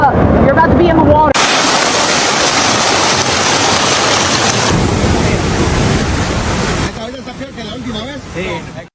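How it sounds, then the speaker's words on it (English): Heavy rain and rushing floodwater pour down during an intense, stationary thunderstorm and flash flood in New Jersey, a loud, dense, continuous roar that drops off near the end, with a voice speaking over it. "The flash floods seen in New Jersey were caused by an exceptionally intense and stationary thunderstorm."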